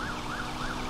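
A video game police car siren wails, rising and falling in a steady repeating sweep, loud and continuous, over a low rumble.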